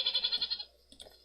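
A sheep in the Minecraft game gives a short, wavering bleat, fairly faint, followed by a few soft clicks.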